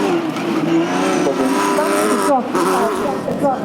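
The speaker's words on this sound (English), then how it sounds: "This lovely little KRS Metro 6R4 in the Belga team replica colours always looks magnificent and always turns heads" A KRS Metro 6R4 rally car in Belga team replica colours drives at Goodwood, its engine note rising and shifting with brief tire-scrub sounds, while a commentator talks steadily over it.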